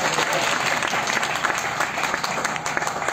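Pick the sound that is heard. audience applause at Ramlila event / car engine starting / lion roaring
audience applause at Ramlila event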